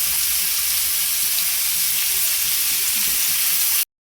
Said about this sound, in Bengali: শুকনো লঙ্কা আর জিরে একটু গরম করে নেব।